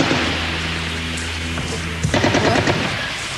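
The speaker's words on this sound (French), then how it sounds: "des tirs." Bursts of gunfire at Netzarim, an Israeli enclave, crackle over a steady rumbling background, growing denser and sharper in the second half as rapid, closely spaced reports.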